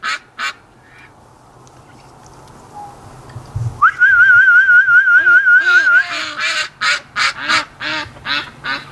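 A warbling whistled call, then ducks sleeping outdoors in a snowstorm wake and answer with loud repeated quacks, close by. A brief voice is heard before the whistle.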